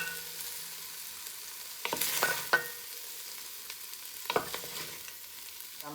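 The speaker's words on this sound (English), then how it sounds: "I'm going to put some more oil in here to get that gratin up when I get these onions in here" Onions sauteing in added oil in a pot for corned beef and cabbage egg roll filling give a soft steady sizzle, with two bursts of stirring and scraping clatter partway through.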